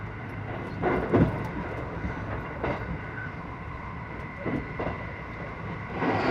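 Steady rumble of a Japanese train rolling along rails toward Kanazawa, with occasional louder clunks and rattles from the wheels, continuous and close, no voices.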